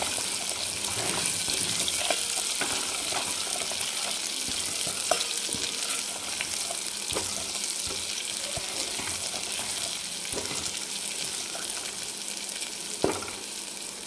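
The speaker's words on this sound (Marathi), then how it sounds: "छान तळून घ्यायचं याला सुगंध आला पाहिजे खमंग असा" Chili powder and turmeric sizzle steadily in hot oil in a pan while cooking chicken thali, a continuous close frying crackle with a few louder pops and stirring scrapes and no talking.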